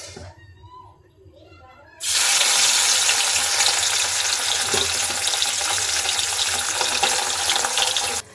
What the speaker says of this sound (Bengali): আগে মাছটা ভাজবো